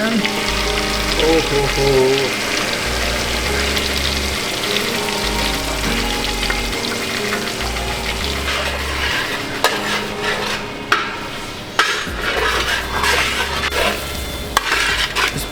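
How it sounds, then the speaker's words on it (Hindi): Marinade for murgh musallam sizzles loudly in a hot pan while being stirred, with scraping and bursts of frying over background music, and a brief exclamation from a man. "इसके बाद मैं डालूंगा इसमें ये सारा इसका मैरिनेशन।"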